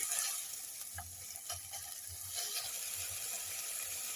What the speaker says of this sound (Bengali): এবার আমি এতে বোনলেস চিকেন দিয়ে দিলাম কুচি করে। এটা দিয়েও ভালো করে নাড়তে লাগবে।